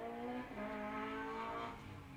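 Race car tyres squeal under late braking into an infield hairpin at a sprint on the Littleferry layout at Golspie, a sustained tonal screech with engine noise beneath, loud and continuous throughout.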